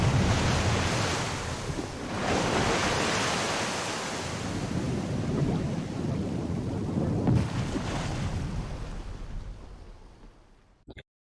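Crashing water waves in the video game DanganRonpa V3, a loud, steady broadband surf roar with a swell near two seconds and another around seven, fading out near the end.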